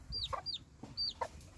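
A hen clucking near her newly hatched chicks, several short clucks with higher peeping calls in an uneven rhythm, close and fairly quiet, with no talk.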